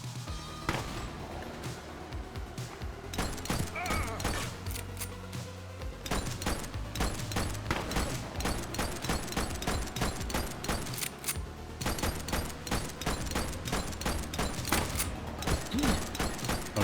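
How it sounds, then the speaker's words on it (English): Dense, continuous video game gunfire in The Precinct, a police action game, with rapid bursts of shots and booming impacts overlapping without a break. "Let's keep shooting you until you die."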